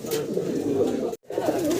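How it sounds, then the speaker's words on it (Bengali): A pair of native Golla pigeons, male and female, coo busily and continuously at close range; the sound breaks off for a moment and then resumes at the same strength. "দেশি গোল্লা কবুতর কতটা অ্যাক্টিভ দেখেন ডাকাডাকিতে ব্যস্ত"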